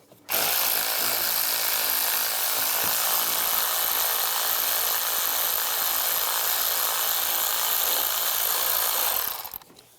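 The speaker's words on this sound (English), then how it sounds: "Now I'm going to take all these bolts, loosen those up, use a 10mm socket." A tool fitted with a 10mm socket loosens bolts on a 2006-2011 Cadillac DTS engine during knock sensor replacement. It gives a steady, close, continuous whir for about nine seconds with no talking.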